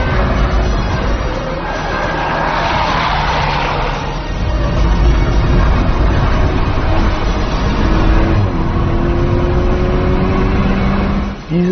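Engine of a VW Golf R 20 Years Edition at speed on a Nordschleife lap, loud and close with wind roar, revving up through gears and easing off, pitch sweeps rising then dropping near the end.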